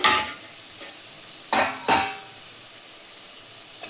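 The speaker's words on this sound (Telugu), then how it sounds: "ఇప్పుడు ఇందులో కట్ చేసి పెట్టుకున్న టమాటా, వంకాయలు వేసుకోవాలండి" Chopped tomato and brinjal tipped into a hot pan for brinjal prawn masala and stirred, giving a brief scrape at the start, then two sharp sizzling bursts of contact with the pan and a quieter frying hiss between them.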